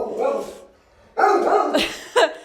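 A talkative shelter dog, neutered and up for adoption, gives a few close, loud vocal bursts—short barks and yips in quick succession over about two seconds.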